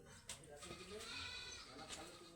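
A sick goat bleats a few times, faint and somewhat distant, mixed in with ongoing household background noise and voices.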